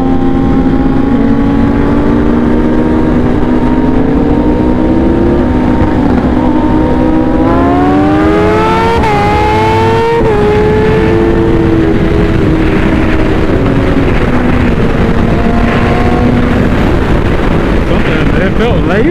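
Sport motorcycle engine revving hard as the throttle opens, a loud rising whine climbing in pitch over several seconds, then settling back to a steady howl with wind noise.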